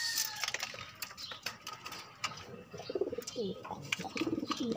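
Flyer pigeons coo and murmur close by in a morning loft, low warbling calls mixed with rustling wings and scattered chirps from other birds around them.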